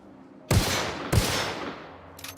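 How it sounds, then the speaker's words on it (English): Two loud, sharp shots from a fast-firing ricocheting pistol in The Outer Worlds, each leaving a long booming tail that fades out, with no voices. "Very fast shooting ricocheting pistol."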